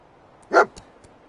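A single sharp bark from Dogmeat, the canine companion in the Fallout game, loud and close against near silence, followed by a couple of faint short sounds.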